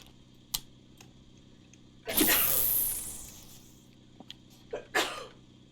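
A single sharp sneeze, loud and close, with a breathy hiss trailing off, amid a few scattered clicks and small taps in an otherwise quiet room.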